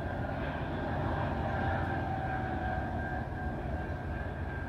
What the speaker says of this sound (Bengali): এই তো ট্রেনটা চলে যাচ্ছে।